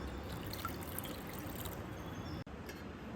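Water poured over a lime-sized lump of tamarind to soak it for tamarind rice, a steady close trickle running continuously for about three seconds with no talk.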